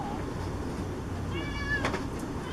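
A cat meows once, drawn out and mid-loud, over dog food, set against steady household background noise.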